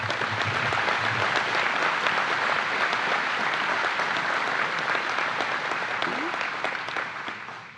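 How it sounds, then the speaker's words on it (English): Audience applause at a NASA Marshall agency-level honor awards ceremony, a dense, even wash of many hands clapping for several seconds before tapering off at the end. "Please give a round of applause."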